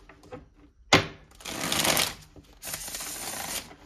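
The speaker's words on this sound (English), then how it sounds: "So let's get some Divine Love Oracle cards" Oracle cards shuffled in the hands, a sharp snap followed by two rustling, riffling passes, fairly quiet and close with no talk over them.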